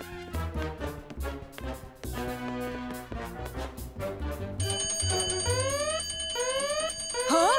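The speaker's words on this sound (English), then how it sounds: "It's probably just a fire alarm test." A fire alarm bell rings in a cartoon, a bright metallic ringing that rises over background music and effects, growing louder and steadier toward the end.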